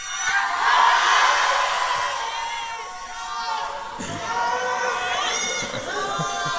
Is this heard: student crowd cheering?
yes